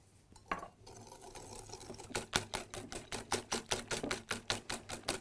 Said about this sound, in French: J'ajoute le sucre et je mélange vivement.